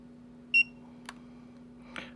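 A single short, high electronic beep sounds, followed later by a couple of faint clicks against a quiet hum.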